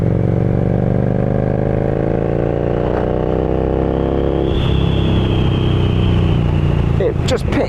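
A Harley-Davidson Street Rod 750 motorcycle cruises in fifth gear at about 2,500 rpm and 40 mph, its engine drone loud and steady, with wind noise rising partway through and a brief clatter near the end.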